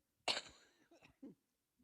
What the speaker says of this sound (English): I was about to tell you I have this cough